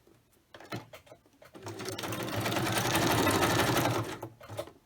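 Sewing machine zigzag stitching through a paper Christmas journal insert with flip-outs, a steady mechanical whir rising after a few short bursts, running loud and continuous for about two seconds before stopping.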